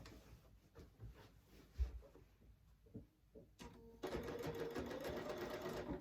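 After a few soft handling taps, a sewing machine starts and runs steadily at close range, stitching a quarter-inch seam on a tote bag.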